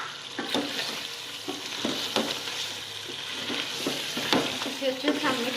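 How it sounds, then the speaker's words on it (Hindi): Chicken karahi seasoned with black pepper being stirred in a pan, a steady close sizzle with repeated scraping strokes of the spoon, no talking. "इसे अच्छे से हम मिक्स कर लेंगे।"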